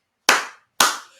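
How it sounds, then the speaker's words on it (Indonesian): Two sharp hand claps, evenly spaced about half a second apart, loud and close with short decaying ring, nothing else around them. "Akhirnya guru tepuk tangan."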